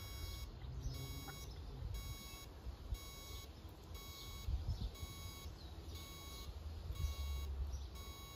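A Benro Polaris astro mount beeps while parking, a faint, steady train of high electronic beeps repeating at a regular pulse over a low motor-like hum.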